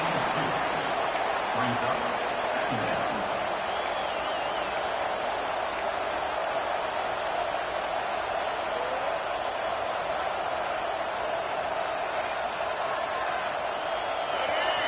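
A football stadium crowd in a video game sends up a steady, dense roar that holds at an even level for the whole stretch, with no break or swell.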